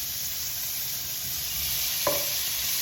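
Cow tongue meat frying in garlic butter in a pan, a steady hissing sizzle with a brief clatter as a piece drops in, moderately loud.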